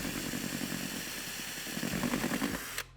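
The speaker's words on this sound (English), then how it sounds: "we're going to be drilling a hole through the seat foam and then running our pigtail through the bottom" A power drill boring a hole through motorcycle seat foam and the seat pan whines steadily and loudly for nearly three seconds, its pitch wavering slightly before it cuts off abruptly.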